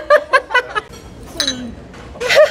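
Glasses clink in a quick run of four bright, close taps for a toast during a daytime drinking meal, followed by laughter and a last clink.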